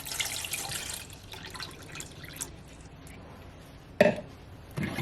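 Water splashes and drips into a small 2-quart saucepan, 3.5 cups poured for elderberry syrup, a soft trickle with a sharper splash near the end, quiet and close.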